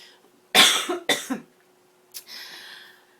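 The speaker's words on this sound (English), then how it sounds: "excuse me for coughing." Two sharp coughs close to the microphone, followed after a pause by a softer, breathy cough or throat clearing.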